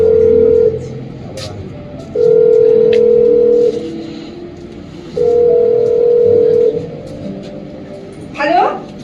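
A telephone ringback tone heard while a call is placed, three long steady tones separated by pauses, loud and close, with a brief voice at the end.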